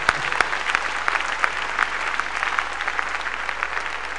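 Continuous clapping from a congregation at a Ghana church service, a loud, dense patter of many hands that holds steady over a low background hum.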